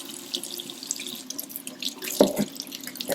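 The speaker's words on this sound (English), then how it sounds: "I run some lukewarm water" Kitchen tap runs lukewarm water over orchid roots being rinsed, a steady close splashing stream with brief louder gushes near the end.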